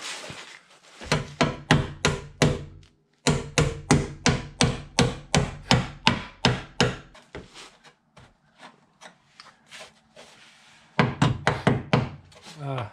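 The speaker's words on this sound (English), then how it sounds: "Now, I am going to just smack the bottom of this with a hammer and see if it does what I want it to do." A hammer repeatedly smacks the rusty underside of a 1988 Ford Bronco II during rust repair, rapid bursts of sharp knocks in a steady rhythm, some loud and others lighter, with brief pauses between runs, close up.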